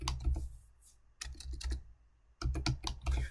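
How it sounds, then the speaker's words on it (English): Rapid keystrokes clatter on a computer keyboard in three quick bursts separated by short pauses, close and fairly loud. "I'm having trouble typing because I have a band-aid on my finger"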